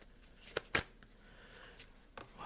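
Tarot cards are drawn from a deck, giving a few soft, quick card flicks and slides, faint and close in a quiet room.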